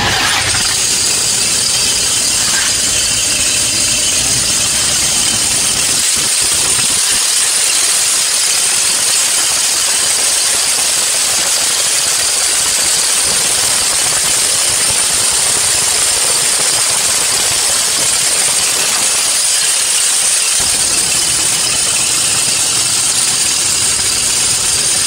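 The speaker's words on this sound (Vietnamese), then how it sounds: "Cái này thì nổ máy lên nghe nó kêu." A Toyota Fortuner diesel engine with a turbo control valve fault runs steadily and loudly up close, a continuous droning idle with a harsh, knocking rattle throughout and no talk.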